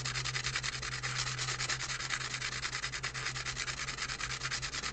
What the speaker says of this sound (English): So we're just going to do a rough sand on this spot now.